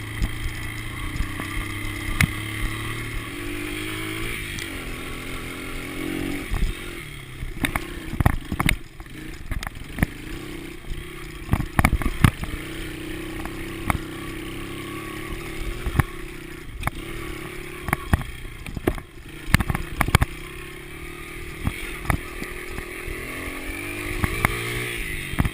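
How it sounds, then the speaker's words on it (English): A dirt bike engine runs after being compression started by rolling downhill, a steady mid-pitched drone with intermittent revving and clattering bursts, fairly close and continuous for the whole stretch without speech. "I'm just gonna try to roll down the hill and compression start the bike."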